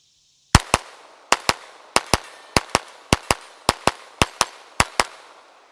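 Kel-Tec P17 .22LR pistol firing at a target 60 yards out: twelve sharp, loud shots in quick pairs with short pauses between, each crack followed by a brief ringing tail.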